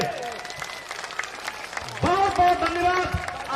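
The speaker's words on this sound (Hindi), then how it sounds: "एक बार जोरदार ताली बजाकर स्वागत करिए।" A crowd at a political rally for Prashant Kishor on the Matihani school ground in Begusarai, Bihar, claps in a steady wash that swells louder midway, with an amplified voice and other sounds running over it.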